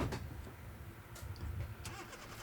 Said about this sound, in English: I've stalled the bloody car.